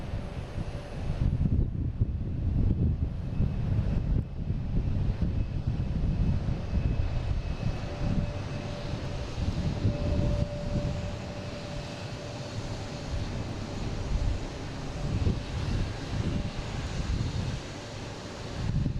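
An American Airlines airliner departs Boston Logan for LAX, its jet engines a loud, steady roar with broad rumble and wind noise holding across the whole span without letup.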